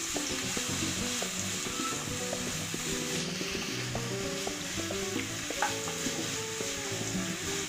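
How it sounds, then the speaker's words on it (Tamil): Chopped onion sautéing with spices in a pan for a mushroom matar gravy: a steady, close sizzle with occasional stirring scrapes, and no talking. "இதுவும் நல்லா வதங்கட்டும்."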